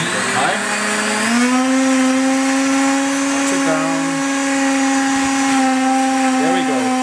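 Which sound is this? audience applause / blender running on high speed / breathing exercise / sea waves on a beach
blender running on high speed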